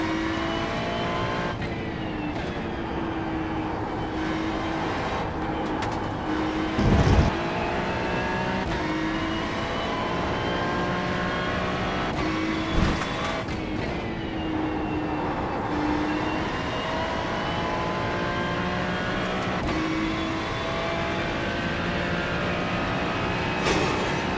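A Ferrari 296 race car at Zolder in iRacing holds a loud, continuous engine note that rises and drops through shifts and braking, with brief tyre and kerb bursts and no speech.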